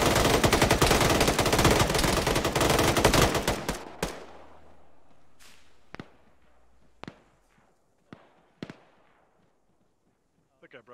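Gunfire in the Arma military shooter game: a dense, loud burst of rapid automatic fire for several seconds, then a handful of separate sharp single shots spaced out over a quiet background.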